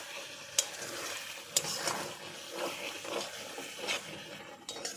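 Atta pasta tossed with Maggi masala is stirred in a pan on a gas stove, giving a soft continuous sizzle with a few sharp scraping clicks of the spoon against the pan, close and alone.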